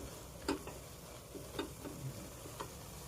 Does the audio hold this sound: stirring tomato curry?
yes